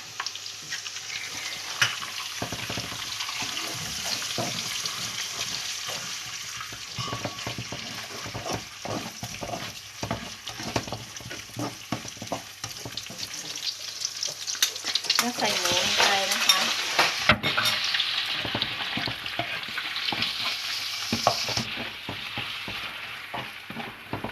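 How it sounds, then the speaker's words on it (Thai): Shallots, garlic and egg sizzle and are stirred in a hot pan for Korat-style fried rice noodles, a continuous frying hiss with scraping spatula strokes and clinks that swell louder midway. "หอมและกระเทียม ลงไปก่อนนะคะ ไปเจียวให้หอมนะคะ แล้วก็ใส่ไข่ลงไปนะคะ"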